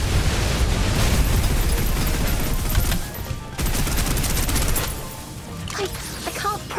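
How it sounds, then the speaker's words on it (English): Suppressive gunfire in the shooter game Snowbreak, a dense, continuous loud fusillade of rapid shots and blasts that briefly dips around the middle, then resumes before thinning out toward the end. "Deal with this. Suppressive fire."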